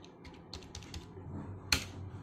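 Several light keystrokes tap out a password on a computer keyboard to unlock a PC, sparse and close, ending in one sharper, louder key click.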